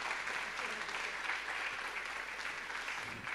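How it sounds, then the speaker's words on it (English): Audience at a tech event on future cities applauding a speaker, a steady, dense wash of many hands clapping from the room, even and moderately distant throughout. "an applause for him as well"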